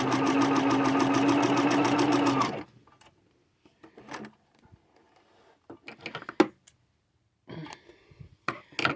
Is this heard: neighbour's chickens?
no